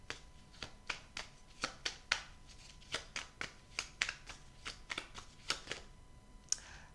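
Tarot cards are shuffled and drawn, giving a quick series of soft, close card flicks and slaps in a fairly steady rhythm, faint and with no talking.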